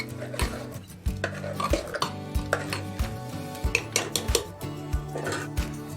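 A utensil stirs and scrapes rhythmically against a metal pot, mixing mashed elephant foot yam into lentil curry, with repeated clanks and taps at a steady pace, close and clear.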